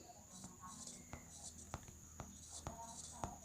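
A pen writes the word cylinder by hand on paper, a run of short scratchy strokes with small taps between them, close and quiet, along with faint whispering.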